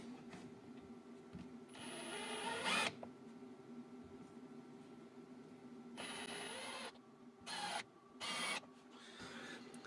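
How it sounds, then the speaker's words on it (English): A small power drill whirs in several short bursts while drilling small holes in rubber, rising in pitch as it bites into the material, with quiet pauses between runs. "we are just going to drill some small holes in the rubber itself"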